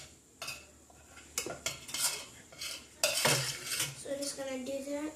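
A spoon scraping and stirring meat sauce in a bowl for lasagna, with close scrapes and metallic clinks against the sides that come in short bursts, quiet overall, plus a brief bright squeak near the end.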